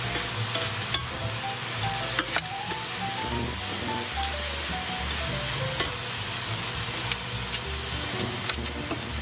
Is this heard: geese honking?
no